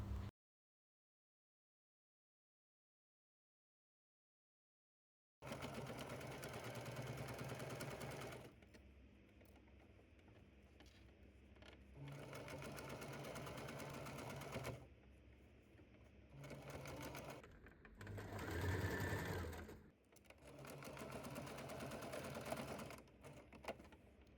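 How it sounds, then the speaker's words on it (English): After several seconds of silence, a sewing machine sews the pinned areas of a make-up bag in long, loud, close runs, with brief slowdowns and pauses between stretches of stitching. "Now sew the pinned areas."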